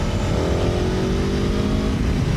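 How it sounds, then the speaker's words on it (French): Aprilia Tuono V4 Factory 1100 motorcycle fitted with an SC Project exhaust accelerating, a loud continuous engine roar with rising harmonic tones, heard alone without talk. "avec le pot SC Project, elle fait un bruit magnifique"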